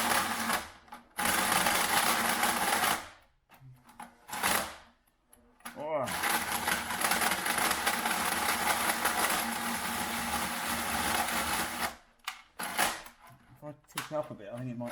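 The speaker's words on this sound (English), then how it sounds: "Right, we'll finish off drilling." A power drill bores through a steel exhaust pipe for a Smart Fortwo W450 with cutting compound, a loud, steady whine in long bursts broken by short pauses, with brief talk in the gaps.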